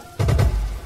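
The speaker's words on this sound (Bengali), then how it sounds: "যেন মনে হচ্ছে আকাশ ভেঙে বৃষ্টি হচ্ছে" Heavy rain pours down in a Bengali horror cartoon, a loud, dense wash of rain with a deep rumble that swells suddenly and keeps going, with no voices over it.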